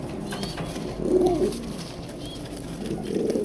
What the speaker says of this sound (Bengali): ড্রাগন কবুতর গ্রিজেল কালার, এই যে দুইটা রিং পরানো আছে, ঘুমে আছে মাদি কবুতরটা।